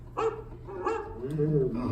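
A couple of short dog barks, close by, mixed in with a voice and other sounds.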